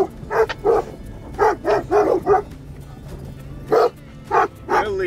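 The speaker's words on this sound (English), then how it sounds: "Wow, these are good dogs." Dogs on an overlanding trip in Colorado's Flat Top Wilderness give a series of short, close barks and yips mixed with whimpers, in bursts separated by brief pauses.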